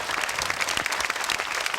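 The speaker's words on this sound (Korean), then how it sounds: "박수 한번 보내주십시오." Studio audience applause fills the moment on a Korean army variety broadcast, steady and dense with no talk over it.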